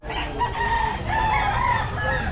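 Chickens at an open-air pet market on a rainy day, a rooster crowing loudly over steady clucking and hen noise, close by and continuous, with no talking.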